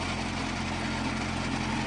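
New tractor engine running on test with a rotary tiller, a steady close, loud droning hum with low pulsing throb, no voices.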